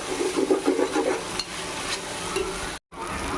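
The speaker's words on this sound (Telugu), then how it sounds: "బాగా తిప్పుకుందాం. పచ్చి వాసన పోయేదాకా ఫ్రై చేసుకోవాలి." Spices frying in a pan for veg pulao, a steady sizzle under the scrape and swish of a spoon stirring, close and continuous with one brief dropout near the end.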